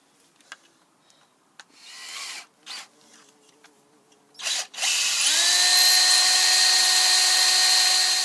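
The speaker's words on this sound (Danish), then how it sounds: "så tager du og borer et lille hul i den her plade her" A power drill bores a small hole through a plate, with short bursts and brief silences at first before a long, steady, loud whine that rises in pitch and holds for several seconds.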